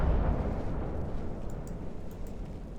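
A shell strikes a battleship in the naval video game Ultimate Admiral Dreadnoughts, producing a heavy rumbling explosion that starts loud and booming, then rolls on and slowly fades, with no talking over it.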